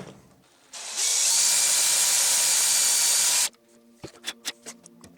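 A power drill bores a pilot hole in a Space Marine Fellblade model kit, running as a loud, steady whine for about three seconds, then stopping, followed by a few short clicks and taps.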